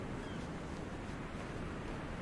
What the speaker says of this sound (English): Do you see those waves over there, how they're breaking sideways?